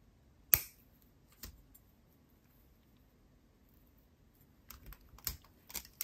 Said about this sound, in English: I'm going to snip off the excess.